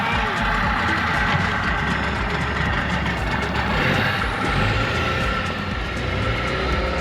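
An RV truck engine runs with a steady, loud rumble while being driven near Winderabandi Point at Ningaloo, with people talking over the continuous drone.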